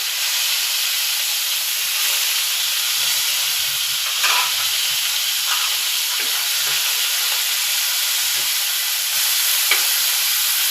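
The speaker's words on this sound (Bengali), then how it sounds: "যখন মরিচ ভাজছি, পেঁয়াজ ভাজছি, কড়াটা একটু লেগে লেগে পড়বো" Chillies and onions frying in a pan, a loud, even hiss of hot oil for about ten seconds with occasional light clicks and scrapes from stirring.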